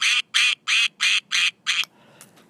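A duck gives six loud, evenly spaced quacks in a quick steady rhythm, close and alone, followed by a quiet tail of faint noise.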